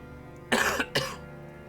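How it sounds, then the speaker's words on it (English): Two sharp coughs from a person with a lingering cough, close and loud, the first harsher and longer, the second shorter, each followed by quiet room tone. "I still have a cough"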